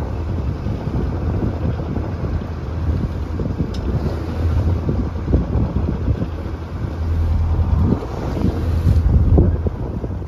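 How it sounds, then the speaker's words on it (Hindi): Strong wind roars across a ship at sea in rough weather, buffeting the microphone in a dense, continuous rush that swells and gusts louder toward the end, with no talking. "तो आप लोग तो हवा की आवाज़ और शब्द आवाज़ आपको अच्छे से क्लियर सुनाई दे रही होगी"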